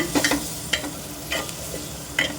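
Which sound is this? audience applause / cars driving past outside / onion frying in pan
onion frying in pan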